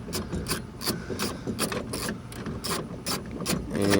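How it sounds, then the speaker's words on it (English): A ratchet works a nut loose on a PT Cruiser front window regulator assembly, giving a close, steady series of rapid metallic clicks in short bursts, about ten pulses over several seconds, with no speech. "Now we're going to go right in here and get this, take this nut completely off."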